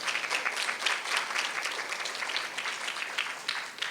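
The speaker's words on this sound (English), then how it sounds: "if I could ask you to give a round of applause for our speakers" A conference audience gives a round of applause at the end of a session on farmed animals. The clapping is dense and continuous, fairly soft and distant, and carries on for several seconds without speech.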